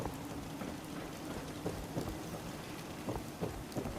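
Steady rain pours down in an outdoor scene of the video game Fallout 4, with soft thunder rumbling beneath and a few sharper drops or crackles standing out against the constant hiss.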